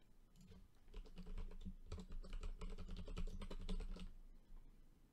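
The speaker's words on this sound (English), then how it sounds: "Okay, and you need to type it in" Quiet, fast typing on a computer keyboard fills about three seconds: a soft flurry of key clicks, fairly close and alone, with hushed pauses before and after.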